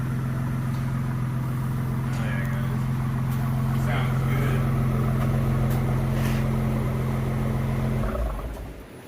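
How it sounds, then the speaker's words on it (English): Ford Explorer ST idling after a cold start through a 3-inch exhaust, a loud, steady low rumble holding for about eight seconds before cutting off and fading out. "Official cold start. Sounds pretty good."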